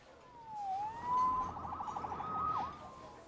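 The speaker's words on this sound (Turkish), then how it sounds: "Siren kurtardı seni." A police siren wails in the video game Marvel's Spider-Man Remastered, sweeping up and down in pitch at moderate distance and fairly faint, heard alone with no talk over it.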